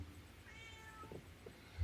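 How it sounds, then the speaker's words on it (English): A cat meowing once, a faint, short, rising and falling call heard alone in a quiet room. "Oh, I hear a kitty cat."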